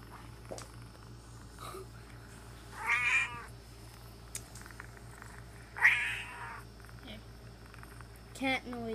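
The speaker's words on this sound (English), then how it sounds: "Cat noises." Recorded cat meows play from a device, two distinct drawn-out calls about three seconds apart with a shorter one near the end, moderately loud over a steady low hum and faint background noise.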